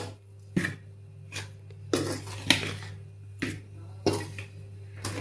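Ragi (nachni) papad spice premix being stirred in a metal vessel: a series of sharp scraping clinks of a spoon against the pot at irregular intervals, close and moderately loud over a steady low hum.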